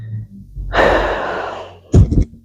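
A close breath during a held yoga peak pose: a short intake, then a long audible exhale, followed by a couple of quick, sharper breaths, with no talk.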